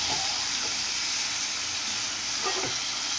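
Chicken pieces sizzling in hot oil in a pan for chicken dopiaza, after onions have browned; a steady close broadband hiss with a few faint scrapes of stirring.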